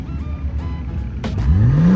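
A Super car's engine revving hard at a large Cars & Coffee show in Texas: a rumbling idle that climbs into a loud, rising rev near the end, close by with crowd noise behind.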